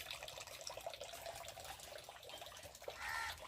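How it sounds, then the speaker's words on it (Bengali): Running tap water splashing over large fish heads as they are rinsed and rubbed clean, a continuous faint trickle with soft wet handling sounds and no talk. "ভালো করে ধুয়ে ধুয়ে পরিষ্কার করে নিই।"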